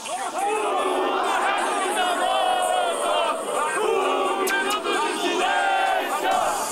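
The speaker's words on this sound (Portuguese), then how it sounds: "Comemoração com as músicas tradicionais do time" A crowd of futsal fans greeting their champion team in the street sing and chant the club's traditional songs together, a loud, continuous roar of many voices with cheering throughout.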